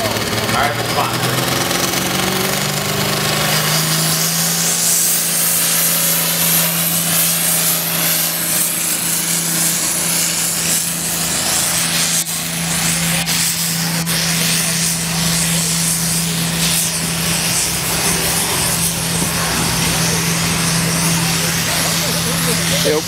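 A Farmall 706 International tractor, running a 1066 setup, roars steadily at full load during a farm tractor pull, its loud sustained engine drone continuing throughout while an announcer talks over it.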